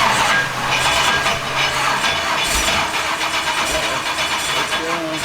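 Twelve-year-stored barn find Pontiac Firebird engine cranking and trying to start on a weak battery, a steady churning crank with brief thumps, people talking nearby.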